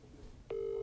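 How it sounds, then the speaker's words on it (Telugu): An outgoing phone call starts to ring: after a brief hiss a steady electronic ring tone switches on and holds, fairly quiet and without talk. "రింగ్ అవుతుంది"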